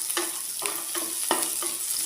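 Onions sautéing in a pan for Kerala kappa mezhukkupuratti, a steady bright sizzle broken by about five regular scraping stirs, close and fairly loud with no voices.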